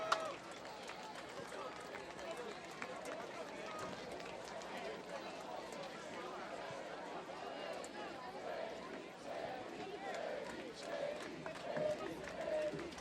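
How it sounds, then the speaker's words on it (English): A high school football crowd roars and chatters steadily at a distance throughout, with a broad continuous cheer swelling slightly near the end. "The crowd here fired up."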